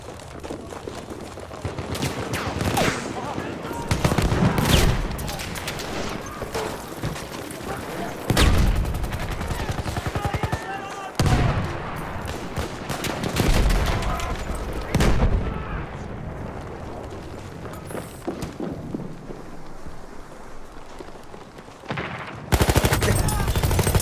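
SMG 08/18 submachine gun fire in the Battlefield 1 video game, with loud bursts and taps of rapid gunfire close by, mixed with distant battle noise and occasional speech.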